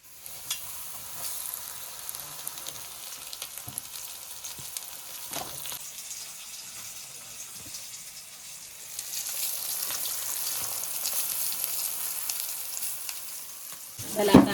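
Pomfret fish coated in rice flour and semolina fries in a pan over a wood-fired stove, giving a soft continuous sizzle with occasional stirring clinks that swells louder partway through.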